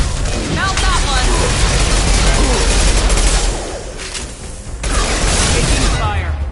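Rapid gunfire and heavy booms from a firefight in Mass Effect 2, loud dense bursts rolling almost continuously, briefly easing before resuming, with voices calling out over the combat.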